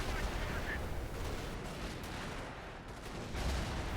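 Grenadier squads fire steadily in a strategy video game, a dense, continuous crackle of rifle and grenade fire with low booms, fairly loud and unbroken across the whole stretch.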